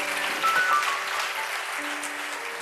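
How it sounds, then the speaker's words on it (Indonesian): A church congregation applauds loudly in a dense, sustained roar of clapping that fills the room, with a faint tonal hum under it. "Tepuk tangan yang dahsyat."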